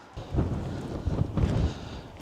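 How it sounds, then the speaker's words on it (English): Strong wind gusting around an abandoned countryside mansion and wooden shed on a stormy day with tornado risk, heard as loud, rumbling low buffeting and whooshing that swells in two bursts, close to the microphone. "we have extraordinarily high winds"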